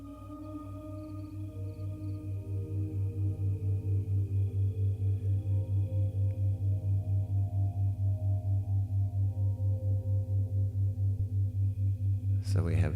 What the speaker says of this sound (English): Binaural beats are super cool.